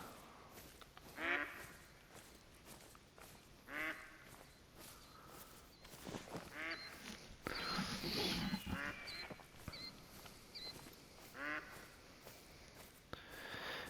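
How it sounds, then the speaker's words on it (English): Ducks flee in theHunter: Call of the Wild, with several short bursts of quacking and rustling over a soft outdoor bed, the busiest flurry near the middle of the stretch. "got some fleeing ducks"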